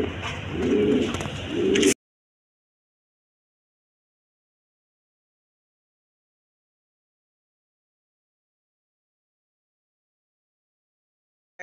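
A pair of colouring golla pigeons coo in low, rounded pulses for about two seconds, close and clear, before everything falls silent.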